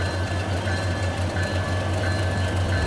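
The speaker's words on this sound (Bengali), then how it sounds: "থেকে ছেড়ে আসা ধূমকেতু এক্সপ্রেস ট্রেনটি" Dhumketu Express train from Rajshahi pulling into Kamalapur station, Dhaka, before dawn: a steady low rumble of the locomotive and rolling stock with continuous mechanical drone, alone and fairly loud throughout.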